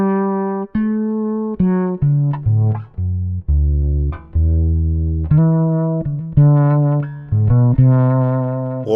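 Fretless bass played alone, a sequence of warm, sustained notes with smooth attacks, each note ringing and decaying before the next, moving through low and mid register.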